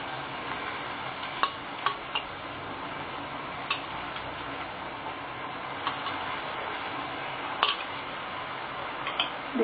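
A spoon stirs onion and moong dal curry in a pan with quiet, irregular scraping taps over a faint steady hiss of cooking.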